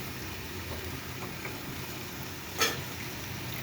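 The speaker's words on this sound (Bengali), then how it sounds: "আমি এটাকে খুব ভালোভাবে কষিয়ে নিলাম।" Mixed spices and onion sautéing in hot oil for a potato and chicken curry make a soft, steady sizzle, with a single sharp utensil clink near the end and no talking.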